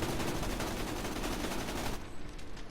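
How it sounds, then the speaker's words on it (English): Rapid gunfire from a weapon with extra fire explosions in the video game Borderlands 2, a dense, continuous crackling barrage for about two seconds that cuts off into a short, softer tail. "those extra fire explosions actually do a lot of damage"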